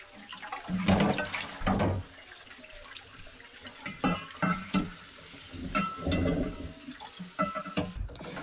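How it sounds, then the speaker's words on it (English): Broccoli rinsed under a cold kitchen tap, water splashing and trickling in irregular bursts with clattering pauses between, close and unaccompanied by talk. "Then drain the broccoli and wash"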